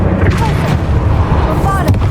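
The Bombarda spell explodes in the video game Hogwarts Legacy as a heavy, booming blast with deep rumbling. It sounds loud and close, and a voice talks over the explosion.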